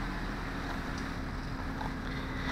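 Steady, loud wind buffeting a microphone outdoors on a blustery day at a radio-controlled helicopter flying session, a continuous low rumble with no break across the whole stretch.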